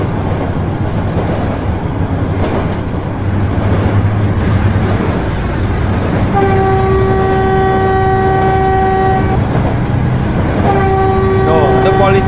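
A Pramek commuter train running in Trainz Simulator Indonesia on a Yogyakarta line, a loud continuous rumble of rolling wheels joined by two long sustained horn blasts in the second half.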